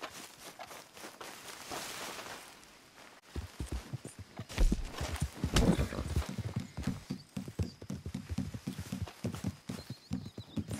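Horse hooves clip-clopping in Red Dead Online as a rider charges close, a rapid run of loud, near hoofbeats building after a quieter start, with a brief whinny-like cry mixed in.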